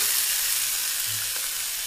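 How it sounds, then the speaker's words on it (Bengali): Vegetables sizzle and fry in a pan with ginger paste, a close, continuous crackling hiss with a brief stir-like scrape near the middle. "আদা বাটা দিয়ে কষিয়ে নেব"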